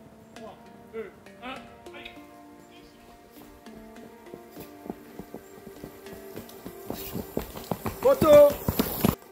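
A mare's hooves clop along during a standing-start race against an Evercross EV10K Pro 500W 36V electric scooter. The steps are sparse at first, then quicken and grow louder, and voices talk over them.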